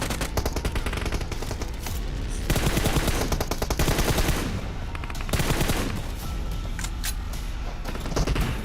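Rapid, sustained gunfire from a 4x-scoped rifle in PUBG Mobile, during an esports tournament match, with dense bursts of shots rattling back to back, loud and close, with brief gaps between volleys.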